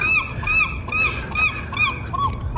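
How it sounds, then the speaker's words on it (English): A seagull perched overhead near boats gives a run of loud, repeated squawking calls, about five evenly spaced cries that sound close and carry clearly above faint background noise. "there's a seagull right up there. He's the one making all that noise."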